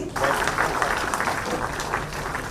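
Audience applause at a ceremony handing out appointment letters to selected job exam candidates, a dense burst of clapping that stays steady and fairly close for a couple of seconds.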